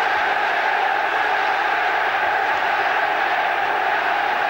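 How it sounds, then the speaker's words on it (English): Football crowd at a 1993 Premier League match between Manchester United and Tottenham, a loud continuous roar of many voices chanting United around the ground, steady and unbroken throughout. "They chant around the ground of United, United now."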